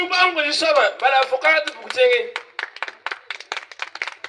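A church congregation claps hands in a steady rhythmic beat, close and lively, taking over after a few seconds of a voice speaking or chanting.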